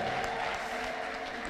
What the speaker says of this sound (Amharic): እልልታና ጭብጨባ ያምጣ